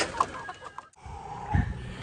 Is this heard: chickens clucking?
yes